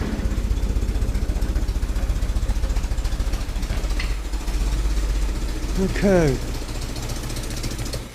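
A Ford GPW jeep engine idles with a low, steady, rough rumble, running after a long time out of use, while someone speaks briefly over it.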